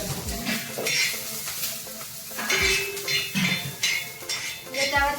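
Garlic and ginger roasting in a spoonful of oil for a traditional fish curry, with a soft sizzle under repeated metallic scrapes and clinks of a spoon against the pan, close and fairly loud.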